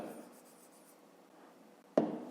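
A pen writes on paper while working a long-division maths exercise: a faint, soft scratching close by that ends in a sharp tap, with no voices.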